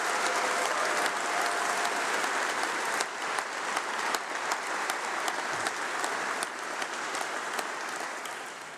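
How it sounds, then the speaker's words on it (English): A large audience applauds steadily after a speech at a university congregation ceremony, a dense wash of clapping that holds strong before tapering slightly toward the end. "another huge round of applause for Alicia Data for that fantastic"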